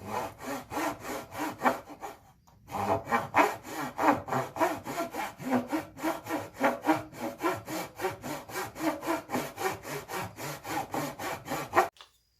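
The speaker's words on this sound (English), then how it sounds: "What I'll do is just cut right here, big enough for the bandsaw blade to get in" A saw cuts through Purple Heart wood for a handmade guitar with steady, rapid back-and-forth rasping strokes. The strokes are close and continuous, with one brief pause.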